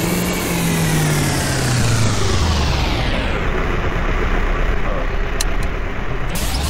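The bat car's engine in a video game revs hard and drives off as a continuous loud, dense roar, its pitch sliding down as it pulls away, with faint clicks near the end.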